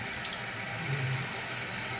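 Water pours steadily into a pipe as a tank fills during a service call, a continuous close hissing rush with one small splash near the start and no talking.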